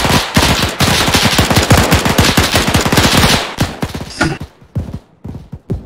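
Machine gun fire in the military video game Arma 3, loud, close, sustained rapid bursts that break into scattered shots toward the end, with no talk.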